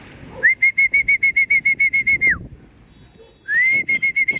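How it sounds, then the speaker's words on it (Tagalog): A loud, close run of rapid repeated whistled bird calls, a brief pause, then another burst of the same sharp whistling notes. "dami nalang ibon"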